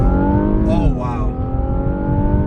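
An Infiniti Q60 pulls away hard, its engine note rising in a strong, steady roar with audible gear shifts, loud and close from inside the cabin.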